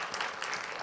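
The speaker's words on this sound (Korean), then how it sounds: "우리 축복하면서 우리 박수를 한번 격려하겠습니다." Brief, soft clapping from a church congregation during a Sunday service, faint and steady without a break.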